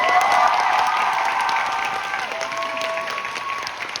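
A theater audience applauds at the curtain call of the musical Blue Helmet: Meisa's Song, giving dense sustained clapping from a large crowd with faint sustained tones underneath that slowly fade.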